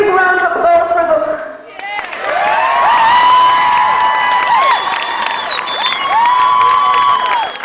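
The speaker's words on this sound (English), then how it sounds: "I want to give a big round of applause for them." A crowd at a ladies football championship celebration claps and cheers, a loud roar of applause with shouts and whoops rising after a brief spoken lead-in, and high voices calling out over the clapping.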